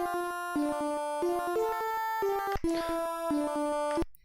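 TIC-80 fantasy-console chiptune with a lead jam line and a bass line playing together, bright square-wave notes in a quick stepping rhythm over steady low bass, loud and close, ending abruptly.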